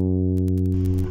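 A bass guitar plays a short fill: a sustained low note rings and then shifts, sounding clear and close with no talking.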